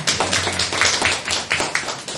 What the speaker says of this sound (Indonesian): Beri tepuk tangan buat kita semua.